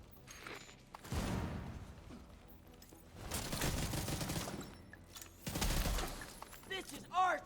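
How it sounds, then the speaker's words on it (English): Frag grenade blasts and gunfire in a video game shooter, several loud broadband bursts rising and fading over a few seconds amid a busy mix of game effects, with a player talking at points. "Deploying frag!"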